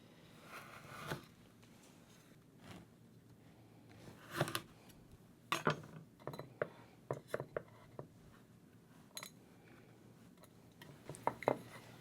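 A knife cuts through crumbly Skor shortbread crunch cookie dough in a quiet kitchen, giving scattered soft scraping and crunching taps at irregular intervals.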